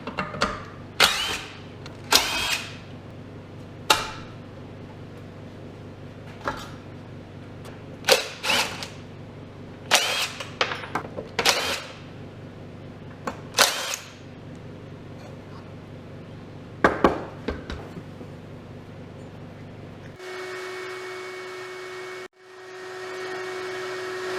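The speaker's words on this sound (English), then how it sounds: "what I'm doing right now is taking the fuel pump off of here" Mechanical work on the engine of an OMC Mustang 310 skid steer as its fuel pump is removed, with scattered sharp clanks and tool scrapes over a steady low hum, ending in a brief whirring tone.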